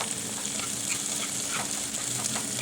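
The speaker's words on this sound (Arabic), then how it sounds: "ابتدي احط الفلفل اللي انا قطعته، ونقلب برضو شوية" Chopped peppers frying gently in ghee while being stirred, a soft continuous sizzle with faint scraping, steady and close with no speech.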